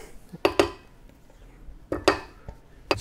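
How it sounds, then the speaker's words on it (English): A spoon stirs an ingredient into tapioca in a pot for Thomas Keller's oyster and pearls dish, giving a few sharp metallic clinks and scrapes in two brief bursts, close by with no talking. "Stir that in with the tapioca."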